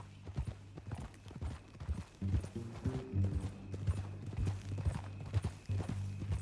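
Horse hooves clip-clop in Red Dead Redemption 2, a steady, fairly quiet rhythm of hoofbeats with low mechanical rumble beneath.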